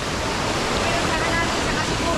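Cold river waterfall rushing with a loud, steady roar of broadband water noise that fills the whole moment without pause.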